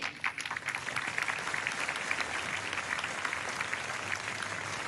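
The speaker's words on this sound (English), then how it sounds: "Let's give it another round of applause to Sister Nelly" An audience at the Zayed Award for Human Fraternity ceremony gives Sister Nelly another round of applause, a sustained, even burst of many hands clapping, moderately distant.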